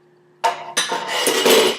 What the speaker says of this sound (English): first I'm going to swish this around a little bit just to kind of mix up the garlic and the lemon juice